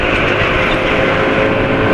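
A motorcycle engine running on too-thin oil idles steadily and loud, a continuous low mechanical rumble with a faint ticking rattle running through it.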